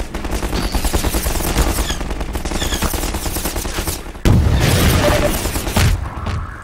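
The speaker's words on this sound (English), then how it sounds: "maybe we should use the rocket launcher?" Rocket launcher fire and explosions in Half-Life 2 burst out loud and close over continuous dense battle noise, with a sharp heavy blast about two-thirds through followed by sustained rumbling clatter.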